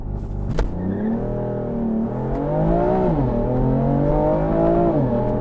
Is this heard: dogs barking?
no